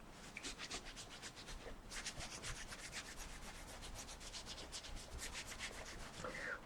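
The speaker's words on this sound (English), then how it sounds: "We're going to take our towel and start to rub one hand." A towel rubs vigorously over the hands in a self-massage, giving a steady, close, soft scrubbing swish that repeats in quick strokes with no talking.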